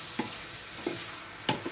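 Vegetables sweat in a pan with salt for a seafood paella, a steady soft sizzle running throughout, broken by three short scraping stirs of a utensil against the pan.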